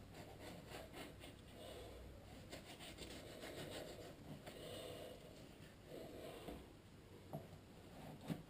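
A knife slices through a large flatfish during filleting, giving a continuous soft scraping and rasping up close at low volume, with a few sharper ticks toward the end.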